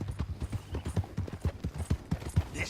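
Horse hooves clip-clop at a steady walking rhythm in Red Dead Redemption 2, about a dozen clear, close hoofbeats with a faint background murmur.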